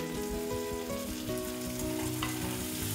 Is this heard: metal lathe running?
no